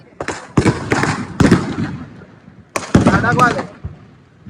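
Diwali firecrackers burst one after another in sharp, loud bangs: a quick cluster of four, a pause, then a second cluster and a final crack, with excited voices chattering between the blasts.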